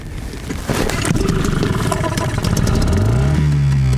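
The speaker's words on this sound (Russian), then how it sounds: "Так, давайте заводить мотор." A Tohatsu 5 hp outboard motor on a Flagman 380 Igla boat starts and runs loud and close, settling into a steady, rising drone.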